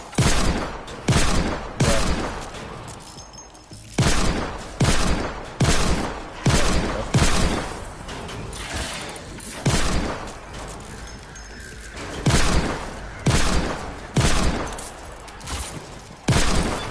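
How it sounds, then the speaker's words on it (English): A pistol fired over and over in Fortnite, with sharp, loud shots landing in quick clusters and short pauses between them, alone and close. "Doing is shooting a pistol, bro."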